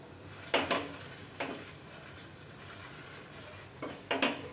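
Badam malai paratha fries in a little white oil in a pan, with a steady soft sizzle beneath a few sharp scraping and clinking utensil strokes against the pan.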